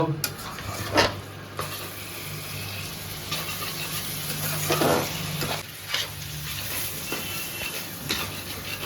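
Spice masala for a Bengali egg curry being stirred and fried in a pan, a steady close sizzle with repeated scraping strokes of the spoon running throughout.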